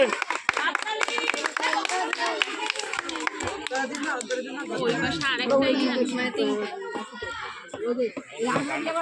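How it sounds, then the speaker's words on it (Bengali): A group claps hands during a village ball-and-glass game, irregular sharp claps mixed with chatter and children's voices close by. "হাততালি দাও সবাই মিলে"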